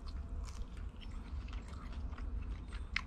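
Close, crunchy chewing of thick fried fish skin from a freshly caught fish, steady bites and crackles filling the whole stretch with no talking.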